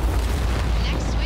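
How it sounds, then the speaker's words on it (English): A booming explosion in the dinosaur-hunting shooter Second Extinction, a dense, continuous low rumble that fills the whole short moment at steady loudness, with game effects and what may be voice chatter layered over it. "Another one of the explosions."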